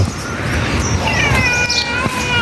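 Cats meow in a village garden in Thailand, several rising and falling calls over steady outdoor background noise, with faint bird chirps nearby.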